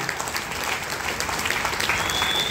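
An audience gives steady, dense applause for a professor and a doctor, filling the whole stretch at even loudness.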